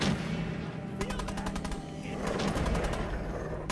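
Gunfire in the video game Fallout 4 during a firefight in Concord, heard as bursts of rapid shots, one run near one second and another near two and a half seconds, over a steady background of game ambience.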